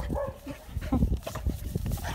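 A gray-blue pit bull plays with another dog, giving short yips, whimpers and small bow-wow barks close by, mixed with scuffling noises in a brief busy burst.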